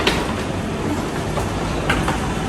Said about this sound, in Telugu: సో రోమ్ ఎయిర్పోర్ట్ ట్రైన్ ఇది. లోపలికి వెళ్తున్నాం.